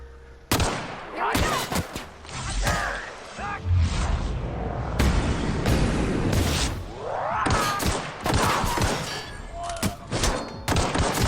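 Gunfire in the video game The Outer Worlds: sharp shots and rapid bursts crack out repeatedly and loudly, with heavier booms and thuds in between, while someone talks over the action.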